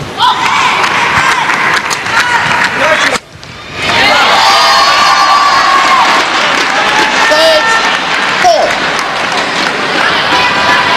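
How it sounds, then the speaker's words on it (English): Home crowd cheering at a women's team badminton quarter-final at the 2017 SEA Games, a loud, sustained roar of shouting and clapping that drops briefly before surging back and holding strong. "Home crowd doing the best to get behind their player."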